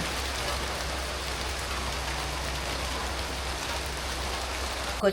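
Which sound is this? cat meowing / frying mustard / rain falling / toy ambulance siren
rain falling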